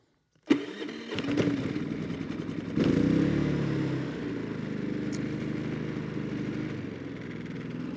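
Predator portable generator from Harbor Freight, with its eco throttle on, pulls over and fires up, then settles into a steady, moderately loud engine drone that holds without talk.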